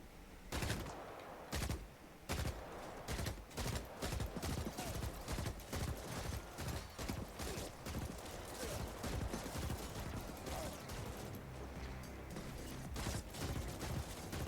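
Homing gun fired in a first-person video game, a long string of sharp, loud shots in rapid irregular bursts, mostly alone with brief pauses between volleys.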